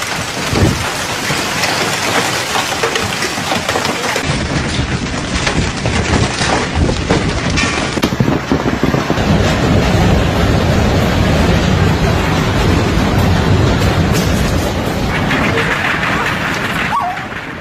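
Heavy rain and hail pound down in a violent storm with thunder, a loud, dense, continuous roar of downpour that swells and rumbles throughout.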